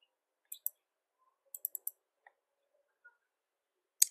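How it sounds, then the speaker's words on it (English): Crisp computer mouse clicks, faint and close in a quiet room: a quick double click, then a rapid run of four clicks, a few soft ticks, and a final sharp click. "let's double click the graph"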